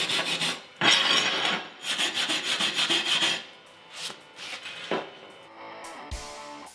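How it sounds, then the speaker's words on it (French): A wire brush rasps over a fresh weld bead to clear away slag, with bursts of close, dry scrubbing strokes that start and stop in short rhythmic runs. "je vais brosser la soudure."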